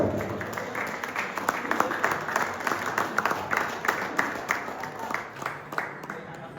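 Audience clapping at a Vishwakarma Premier League cricket event, a steady patter of many hands that runs throughout at moderate volume, with talk and crowd noise mixed in underneath.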